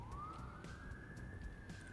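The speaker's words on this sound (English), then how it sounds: "And that's a Siren in-game." A single siren tone from a video game sweeps upward and holds, faint and steady under a low background rumble, with no speech.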